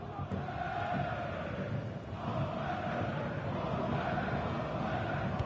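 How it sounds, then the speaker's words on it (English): Stadium crowd noise in the football video game EA FC 25, a steady distant roar of massed chanting and murmuring that swells slightly midway, faint and continuous with no speech. "The crowd certainly think so. Just listen to them."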